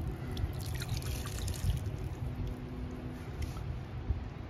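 Water trickles from the spigot of a garden rain barrel, a soft, steady dribble with faint drips, close by and quiet throughout, with no talking.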